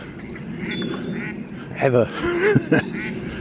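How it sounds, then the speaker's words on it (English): Ducks quack in short bursts near the middle of the clip at Winterley Pool in Sandbach, close by, over a busy outdoor murmur with someone speaking briefly. "I've of course got ducks."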